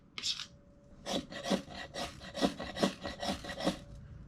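A knife spine scraping timber to raise shavings makes about nine rhythmic, close rasping strokes, each a short, bright scrape with brief pauses between.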